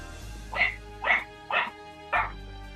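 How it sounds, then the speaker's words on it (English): A dog barking indoors, four evenly spaced sharp barks close to the microphone over a steady electronic hum from a gaming setup. "is that your dog?"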